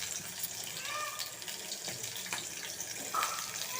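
Sliced onions hit about half a spoon of hot oil for an egg curry, giving a continuous bright sizzling hiss that holds steady throughout, no speech.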